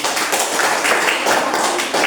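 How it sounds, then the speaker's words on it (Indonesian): Classroom of students clapping their hands together, a dense, steady patter of many claps filling two seconds at close range, with no talking over it. "tepuk tangan dulu untuk kita semua"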